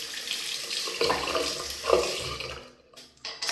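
Cold water splashed up from a bowl during a shaving rinse, with uneven sloshing and splashes that stop briefly, then pick up again at close range.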